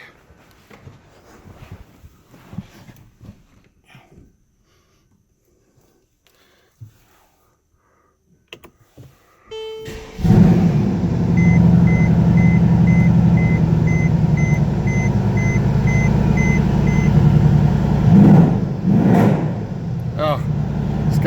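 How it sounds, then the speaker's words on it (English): A 2014 Mercedes-AMG E63 S 4MATIC V8 cold-starts after a quiet stretch with a few faint sounds, catching abruptly into a loud, deep, steady high-idle rumble that holds to the end, with faint chime tones in the background. "Let's go ahead and give it a cold start."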